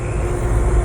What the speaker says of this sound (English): Well, there's that train.